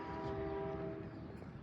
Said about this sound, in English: I hear a train horn.